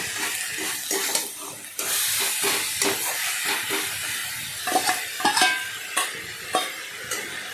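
Prawns going into a pan of red amaranth greens and being stirred, giving a steady sizzle with scraping stir strokes and clicks close by, with no one talking.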